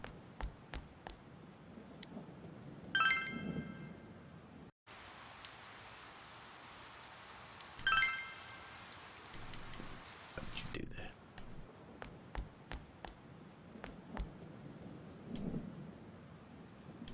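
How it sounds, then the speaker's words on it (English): Steady rain patters throughout a scene in the video game Persona 4, with rumbles of thunder and occasional sharp clicks over the constant hiss. "It's raining."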